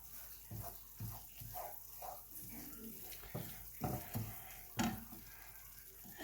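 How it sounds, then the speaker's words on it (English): A spoon stirs a chili roux in a pan over medium-low heat, making faint, close scraping strokes in an uneven rhythm over a quiet sizzle. "But you want to stir it constantly"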